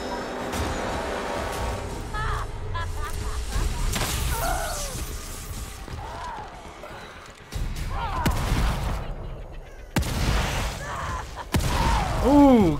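A shotgun blasts in The Evil Within, heavy booming shots landing every couple of seconds amid rumbling game noise, with a voice talking over part of the action.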